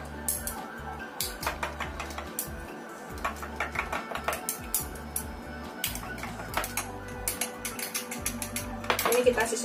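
Repeated clinks and scrapes of a utensil stirring a flour mixture with a spoonful of instant yeast in a bowl, a steady close-up rhythm of light taps through most of the stretch.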